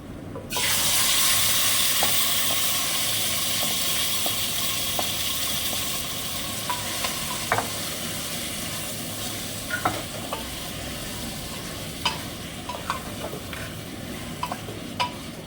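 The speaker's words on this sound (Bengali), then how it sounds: "এবার চিকেনটাও দিয়ে দিচ্ছি" Chicken pieces dropped into very hot, smoking oil with cardamom, cinnamon and cloves in a kadai, a loud sudden sizzle that settles into steady frying hiss with occasional clinks of stirring.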